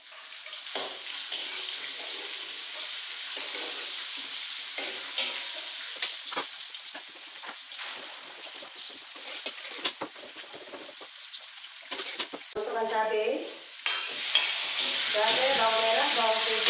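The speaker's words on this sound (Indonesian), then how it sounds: "kita aduk sampai betul-betul masak semua ini" Chili, shallots, garlic and ginger stir-fried in a pan for a spinach dish: steady close sizzling with scraping stir strokes throughout, a brief splash of running water near the end.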